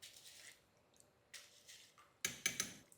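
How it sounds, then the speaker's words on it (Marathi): Soft patters and splashes come in short bursts as soaked rice is tipped into boiling water, fairly quiet with brief pauses between. "आता या खळखळ उकळत्या पाण्यामध्ये हे भिजवलेले तांदूळ चांगले निथळून घालायचे"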